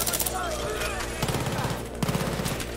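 Rapid gunfire bursts in the video game Battlefield 3 during a co-op mission, crackling shots in quick clusters under constant game noise and a voice, with louder bursts near the middle and end.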